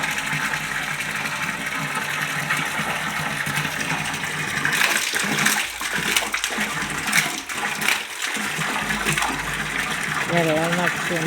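Water pump at a fish farm pouring a steady, loud gush of water that runs continuously throughout, with brief dips and surges in the flow.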